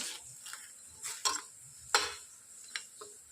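Onion, garlic, ginger and salt being mixed in a pan for a tomato and chilli chutney, a few quiet scraping stirs and light clicks of a spoon over a faint sizzle.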